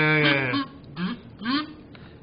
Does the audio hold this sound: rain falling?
no